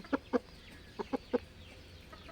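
A rooster clucks five times in short, separate bursts, two close together, then a pause and three more in quick succession, fairly near against quiet rural background noise.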